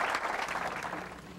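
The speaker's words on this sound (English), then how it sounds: "Give the Lord a good clap" Church audience clapping for kids learning to serve their community, a dense, even patter of many hands held at a steady level through the short stretch, with no voices standing out.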